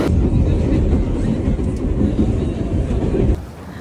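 A New York subway train rumbles along, loud and close, with a steady roaring clatter from inside the car that lasts several seconds and then drops off abruptly.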